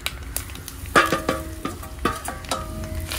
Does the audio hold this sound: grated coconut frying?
yes